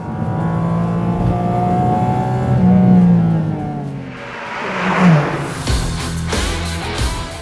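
A Porsche Cayman GT4 RS engine revving hard toward 9,000 RPM, a rising high-pitched mechanical wail that holds, drops off, then surges again with a gear change, loud and close with no talk.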